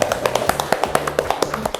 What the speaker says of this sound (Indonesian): Tepuk tangan dong ibu.